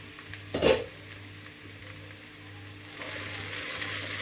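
Vegetables frying in a pot for Hyderabad-style veg biryani, a faint, steady sizzle with one brief clatter of a utensil near the start and the frying swelling slightly louder toward the end.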